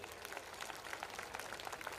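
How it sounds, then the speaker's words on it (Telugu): Audience applause at a Telugu religious speech in Srikakulam, a steady broadband patter of many hands clapping together, fairly even and sustained throughout, with no talk over it. "గట్టిగా ఒకసారి చప్పట్లు కొట్టి"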